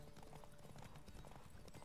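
Horse hooves pounding during a horse race in The Witcher 3 video game, a fast, dense clip-clop rhythm heard faintly and continuously.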